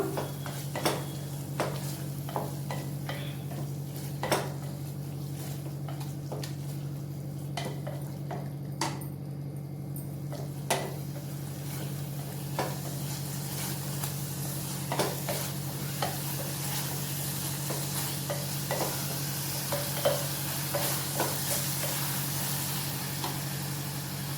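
Onion paste and spices fry in a pan for a peanut kuzhambu, a low steady sizzle with a constant hum beneath it and regular spoon taps and scrapes against the metal, all close and with no talking.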